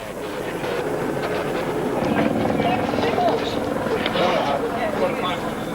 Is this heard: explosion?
no